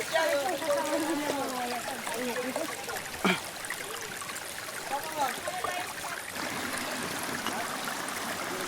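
Creek water babbling and trickling around a crossing on a mountain and river trek, steady and close, with voices talking over it and a brief sharp knock partway through.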